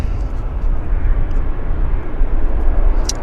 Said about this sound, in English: Our next lander is Delta SkyWest, another baby Embraer from Salt Lake City.